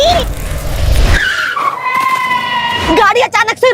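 A car brakes suddenly and its tires skid with a loud, drawn-out screech that slides down in pitch, followed by wavering squeals. A voice is heard over the end.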